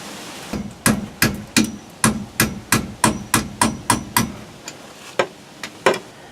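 Hammer blows land one after another in a steady rhythm, about a dozen sharp metallic strikes that thin out into a few slower, softer hits near the end, close and loud with no one talking.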